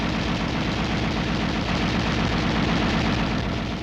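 An M73 7.62 mm coaxial tank machine gun fires a sustained, rapid automatic burst, loud and close, with dense continuous reports and no pauses.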